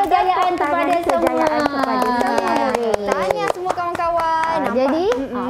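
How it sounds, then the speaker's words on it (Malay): Schoolchildren in a classroom clap their hands in celebration, sharp rhythmic claps ringing out under loud children's voices chanting together. "Tepuk tangan kejayaan kepada semua"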